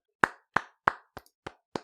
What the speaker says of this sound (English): Get a round of applause for that one.